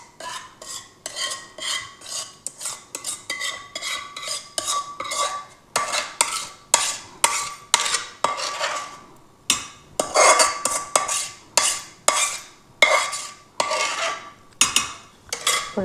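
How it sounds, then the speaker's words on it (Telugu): A spoon stirs a thick ripe red chilli and amla chutney mixed with tamarind paste, scraping and clinking against the pot in a steady repeated rhythm of short, close, loud strokes with brief pauses. "ఇప్పుడు దీన్ని మొత్తం మిక్స్ చేద్దాం."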